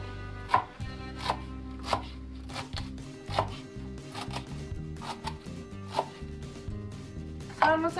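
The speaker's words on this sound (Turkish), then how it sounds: "Şimdi maydanozlarımızı doğruyoruz." Fresh parsley is chopped with a knife on a board for a tomato pickle, a brisk irregular run of sharp close taps over a low kitchen hum.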